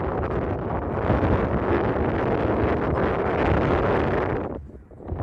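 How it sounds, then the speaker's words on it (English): Strong wind buffets and roars across the microphone continuously, loud and close, easing off only briefly near the end. "Windy."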